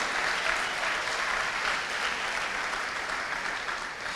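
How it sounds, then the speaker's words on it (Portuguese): A church congregation applauds steadily at a Brazilian evangelical service, a dense, sustained wash of clapping filling the room without a break. "Pode aplaudir o Senhor assim"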